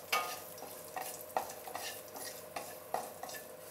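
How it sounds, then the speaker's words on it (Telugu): Finely chopped onions fry in a little oil for Kadapa pappu charu, with quiet sizzling broken by periodic spatula scrapes and taps against the pan. "ఈ లోపల నేను చిన్నగా కట్ చేసి పెట్టుకున్న ఉల్లి ముక్కలు వేసేసాను"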